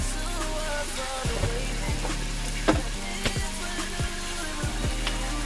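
A tablespoon of butter sizzling in a hot pan, a continuous close crackle with occasional clinks and soft knocks of utensils against the pan, no speech.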